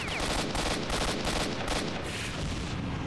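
AK rifle fire rips through a S.T.A.L.K.E.R. Shadow of Chernobyl firefight in a loud, sustained rapid burst of shots, close and dense from start to finish.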